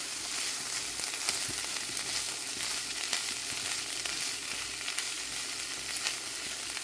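Garlic, about a tablespoon, is stirred into a hot pan, producing a steady, even hiss of frying oil with light intermittent crackles, fairly quiet and with no talking.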